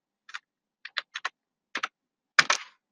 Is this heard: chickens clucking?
no